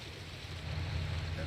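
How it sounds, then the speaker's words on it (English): Water plant machinery in Farming Simulator 19, a steady low rumbling drone with a broad hiss, continuous and fairly even. "Is it because of that water plant? Is that what's making that noise?"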